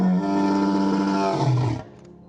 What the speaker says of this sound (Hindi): दूर दूर तक गूंजती यहाँ शेरों की दहाड़ है।